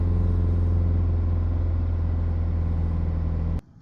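Toyota Avensis diesel engine held at a steady 3000 RPM while stationary, a loud constant droning hum with a firm low tone that cuts off abruptly near the end.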